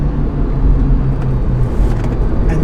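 A Subaru WRX Limited pulls hard in third gear after a downshift, its engine a loud, steady low rumble heard from inside the car.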